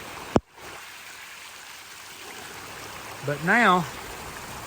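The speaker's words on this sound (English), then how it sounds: "a good amount of water is pouring out of that corner" Storm water pours steadily out of the corner of a newly excavated pond during its first big storm, a constant rushing wash with a voice briefly speaking near the end.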